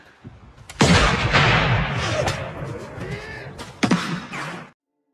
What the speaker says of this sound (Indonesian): menembaki kelompok lain atau kelompok lawan, sehingga terjadi ajang tembak-tembakan